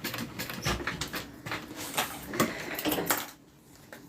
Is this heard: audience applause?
no